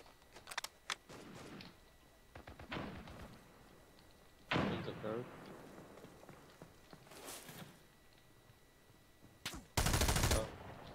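Gunfire in the military shooter America's Army: several sharp, loud bursts spread across the scene, with one especially heavy, close burst near the end, mixed with movement noise and team voices.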